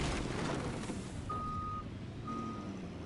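Two clear electronic reversing beeps from a truck in the Fortnite video game, a sustained tone followed by a second shorter one over a busy, rumbling in-game background.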